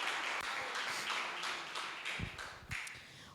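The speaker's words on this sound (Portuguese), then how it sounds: "Pode se assentar, aplaudindo a Jesus pela sua rica e maravilhosa palavra." Congregation applauding in a church service, a dense wash of many hands clapping steadily throughout, with a few louder nearby claps standing out near the end.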